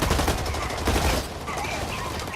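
Rapid assault rifle fire in the shooter game Blacklight: Retribution, a dense, loud burst of shots that thins out halfway through.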